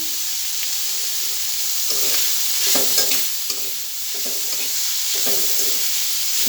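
Rohu fish pieces with salt and turmeric sizzle steadily in a hot pan, a dense bright frying hiss with soft, rhythmic stirring strokes recurring about every second.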